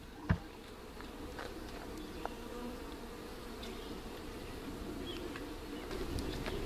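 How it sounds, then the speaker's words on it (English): A steady, low buzz of honey bees rises from two newly installed package-bee hives, a continuous outdoor hum with a sharp knock near the start and a faint tick later on. "There's the two packaged bees installed."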